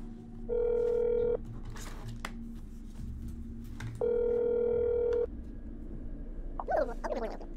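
Telephone dial tone in the horror video game That's Not My Neighbor, heard as two steady, loud tone bursts about a second long each, separated by a gap of room noise, followed by a brief faint warble near the end.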